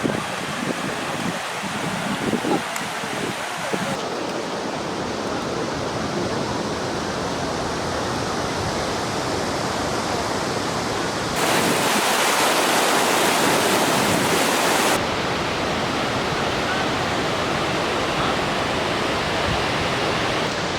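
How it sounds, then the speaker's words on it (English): The Watkins Glen waterfall roars as a steady, loud, broadband rush of falling water that lasts throughout and swells for a few seconds partway through, with faint low thumps near the start. "A waterfall."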